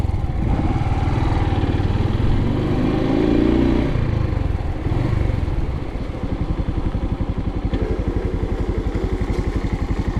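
A Suzuki TU250x motorcycle on a rainy road, its steady engine note running close and continuous, swelling briefly during a drift and then settling into a rapid, even throb.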